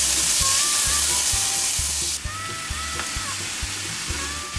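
Peppers sizzle and fry in a hot pan for homemade sloppy joes, a steady close hiss with faint crackle and a rhythmic low tapping through it, no voices.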